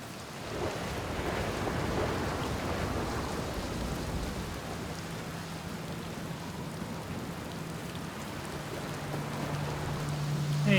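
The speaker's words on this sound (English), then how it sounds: "It's a good thing I never got bored of rain, huh?" Steady rain pours with a broad hiss over rolling ocean surf in the Outer Wilds game, a dense continuous wash that swells slightly toward the end, with no voices.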